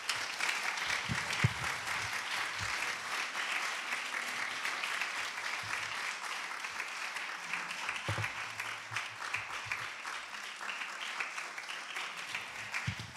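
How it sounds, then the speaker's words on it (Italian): Sustained applause from a lecture audience after a talk on physics in art, a dense, steady wash of clapping lasting over ten seconds at even volume, with faint voices underneath. "Applausi."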